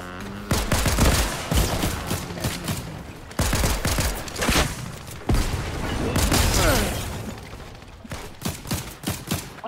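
Bursts of rapid gunfire in a Fortnite match crackle loudly and repeatedly, with short pauses between volleys. Players can be heard talking over the shooting now and then.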